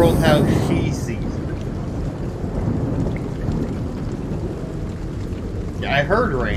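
Steady rain in Life is Strange: True Colors hisses with low rumbling thunder throughout, while voices speak briefly at the start and near the end.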